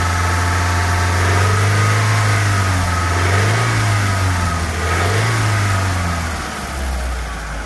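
A 1991 Nissan Datsun D21 4x4 crew cab engine runs smoothly nearby, its revs rising and falling in a few gentle swells over a steady idle hum.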